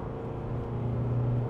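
Mazda BT-50 ute engine revving under acceleration, a steady low rumbling drone that holds fairly constant and rises slightly in pitch, heard alone without talk.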